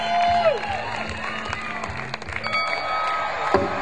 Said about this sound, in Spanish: vamos a recibirlos con un fuerte aplauso para